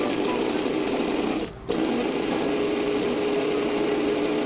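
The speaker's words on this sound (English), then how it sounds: "Then I'm going to grind them for a few seconds." A Waring grinder whirs as it grinds dried vanilla bean pieces into powder, a loud, dense, buzzing motor roar with a brief dip where it cuts out for a moment before resuming steadily.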